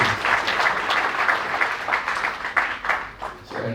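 Sustained applause from a seated audience at a public conversation event, many hands clapping in a dense, even wash that swells and then tapers slightly toward the end.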